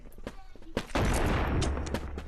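A shotgun fires in the Animal Company video game, a sudden loud blast followed by a dense rumble over faint background game sounds.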